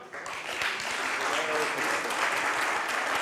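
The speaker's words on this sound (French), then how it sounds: "Vous pouvez vous applaudir." An audience at a conference on affordable housing claps steadily and warmly, a dense patter of applause that holds throughout without voices standing out.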